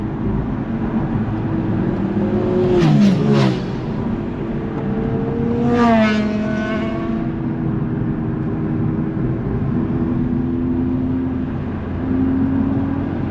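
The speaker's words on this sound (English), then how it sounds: "Get some exhaust notes in." A Honda Civic Type R FL5 exhaust revs twice in loud, rising bursts over a steady idle rumble, then settles back to a low drone with no talking.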